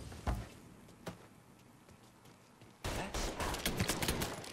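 Gunfire in the Mafia 3 video game: a few scattered single shots, then a dense rapid burst of repeated shots, fairly faint overall.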